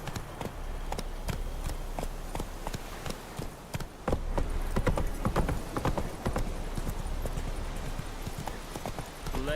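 Roach, a horse in The Witcher 3, galloping with rapid, crisp hoofbeats in a fast rhythm, loud and close, with game ambience underneath and no speech.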